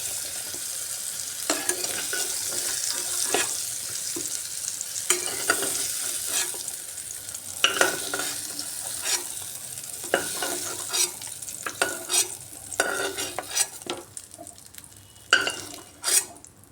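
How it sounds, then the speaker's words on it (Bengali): Ridge gourd fries in oil in a wok with a constant crackling sizzle, while a spatula stirs and scrapes the pan in repeated quick strokes, close and busy throughout. "ভাজা ভাজা হয়ে আসছে সব ঝিঙ্গে।"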